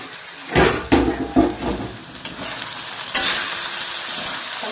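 Masala okra (bhindi) frying in a pan, with a bright, close sizzle broken by several loud stirring scrapes early on, then settling into an even crackle, with no talking.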